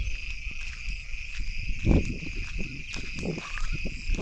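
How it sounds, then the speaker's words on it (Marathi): Crickets chirp steadily in a field after night rain, a continuous high trill heard alone, with a few soft low thumps underneath. "रातकिडा अजून ओरडते ते"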